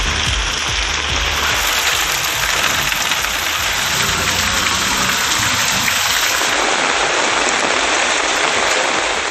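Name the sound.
moderate rain falling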